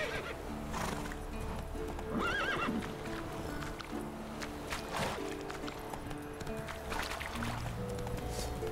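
In The Witcher 3, the horse Roach clip-clops along the shore with steady hoofbeats and lets out a clear whinny, while water sounds and game ambience fill the background.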